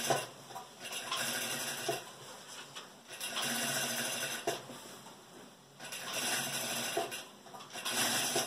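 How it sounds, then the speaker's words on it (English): A sewing machine stitches along the edge of a denim kurti. Its motor whirs in several fairly quiet bursts of running, with short pauses between them. "I am just going to sew through this edge"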